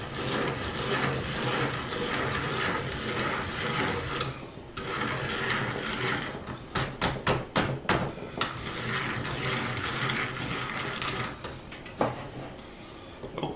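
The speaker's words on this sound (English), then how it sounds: "it seems a lot easier to grind the bean than it did when I was doing the wheat" A grain grinder whirs continuously as it mills beans into flour, a dense mechanical drone broken by a short burst of sharp clattering knocks midway before the steady grinding resumes.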